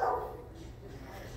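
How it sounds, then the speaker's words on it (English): A dog gives a single short bark at the very start, fairly near, then only a low room murmur remains. "that one just barks at everything"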